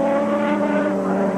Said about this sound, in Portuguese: Aí você vê inteiro o carro de Nelson Piquet.